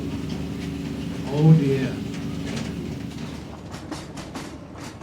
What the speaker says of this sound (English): As the final train of the evening departs the station